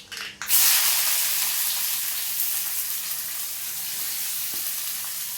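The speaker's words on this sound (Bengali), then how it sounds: "এবারে আমি পেঁয়াজ দিয়ে দেবো।" Chopped onions dropped into hot oil after a mustard seed tempering burst into a loud, steady sizzle that starts suddenly and holds close and even to the end.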